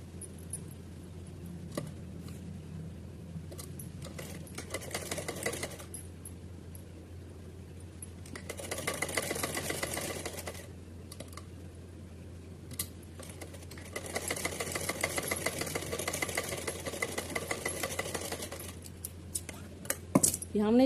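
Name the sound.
sewing machine stitching a straight seam on fabric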